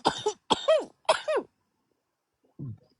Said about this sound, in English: I'm burping and choking and coughing at the same time.